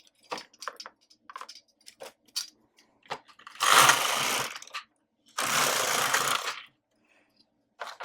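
Domestic knitting machine knitting yarn, two loud raspy sweeps of the carriage across the needle bed, each about a second long, between scattered light ticks and clicks.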